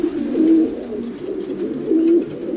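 Racing pigeons cooing close by, two drawn-out low coos in a row over a soft hum.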